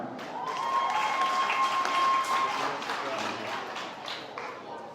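Applause from an audience at a primary and infant school leaving ceremony, a dense steady patter of clapping that holds for several seconds and eases slightly toward the end, with a faint whistle-like tone partway through.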